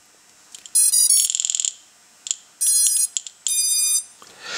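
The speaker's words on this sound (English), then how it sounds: "You probably hear the motor beeping more than the crackling of the buzzer" Loud electronic beeping from the motors of an Eachine Aurora 100 drone comes in several bursts of tones, some rapid pulsing, with quiet gaps and a faint buzzer crackle between them, close up.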